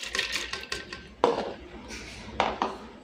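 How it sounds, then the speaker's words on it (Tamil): Soaked lentils are tipped into a metal pressure cooker, giving a few quiet clinks and scrapes of a spoon and vessel in a home kitchen, faint and intermittent, with no talking. "இப்போ நம்ம இதை ஊற வச்ச பருப்பை வந்து நம்ம குக்கரில் சேர்த்துக்கலாம்."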